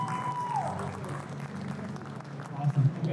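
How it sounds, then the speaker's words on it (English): Convention audience at a cartoon fan event applauding steadily under a faint background hum, with a voice briefly heard near the start. "Round of applause, everybody."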